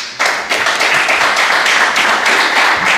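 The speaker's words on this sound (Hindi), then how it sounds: "आप सबकी मोहब्बत भरी तालियों की गूंज में" An audience at a mushaira poetry gathering and book inauguration claps warmly, the steady, close applause starting abruptly and holding at an even, full level throughout.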